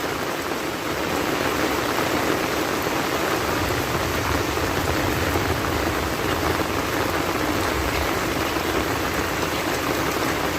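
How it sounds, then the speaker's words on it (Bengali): A constant roar of heavy rainfall on a village in Mymensingh, Bangladesh, thick and even throughout, close by with no other sounds standing out. "প্রচুর বৃষ্টি হইতাছে"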